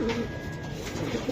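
A male racing pigeon gives a short, soft, low coo close by, with faint background noise and no talking.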